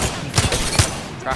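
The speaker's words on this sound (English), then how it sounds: "Shooting." Bursts of gunfire from the Apex Legends video game come in quick succession, short sharp cracks under and between a player's voice.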